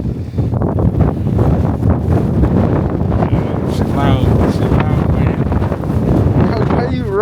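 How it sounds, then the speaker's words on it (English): Strong, steady wind during a New York City blizzard roars loudly and continuously into the microphone, with people talking and shouting underneath. "That wind not playing."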